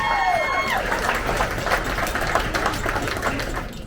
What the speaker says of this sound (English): Stacy and Boyd, let's get a huge round of applause for this lovely couple